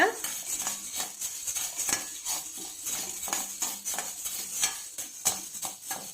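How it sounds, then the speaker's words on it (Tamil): Urad dal dry roasting in a kadai without oil, with a rapid, continuous scraping and rattling of the spoon against the metal pan and faint hiss, close and fairly even throughout. "இப்போ ஒரு கடாய் வச்சுக்கோங்க, அதில் நம்ம எடுத்து வச்சிருக்க 1 கப்பு உளுந்த போட்டுக்கலாம். போட்டு நல்லா வறுத்துக்கோங்க."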